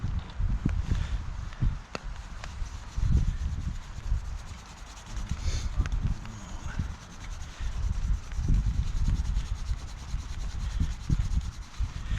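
Wax is rubbed by hand into carved wood, producing close, rhythmic scrubbing strokes with soft thumps as the piece shifts, steady throughout with no speech.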